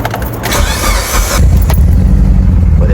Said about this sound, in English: Fired right up though. It's running.